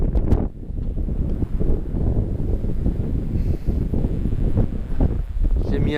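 Wind rushes steadily across a sailboat at sea off Sal in Cape Verde, blowing at about 12-13 knots. A loud, continuous buffeting roar fills the microphone throughout.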